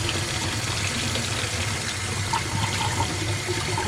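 A steady, even rush of water pours from a tap, a continuous splashing stream with no pauses.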